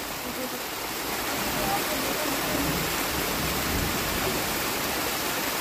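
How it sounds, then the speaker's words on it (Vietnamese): Heavy rain pours during a thunderstorm in the Central Highlands as a truck is loaded in deep mud: a loud, steady, dense hiss of downpour fills the whole stretch, with no distinct thunderclap standing out. "Trời mưa sấm chớp ầm ầm luôn nha. Mưa rất là to."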